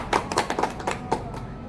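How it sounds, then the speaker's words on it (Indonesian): A handful of people clap unevenly in a school group session, with scattered close, sharp claps in a short, loose burst and no talking. "mari kita tepuk tangan semuanya"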